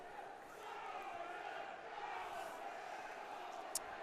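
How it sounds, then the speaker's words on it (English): Rugby league crowd at a January friendly between Wigan and Leeds, a steady broad roar of many voices rumbling on at a moderate distance, swelling slightly midway, with a brief sharp shout near the end. "Crowd getting a bit vocal now."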